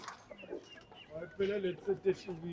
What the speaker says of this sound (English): Look at the live chickens.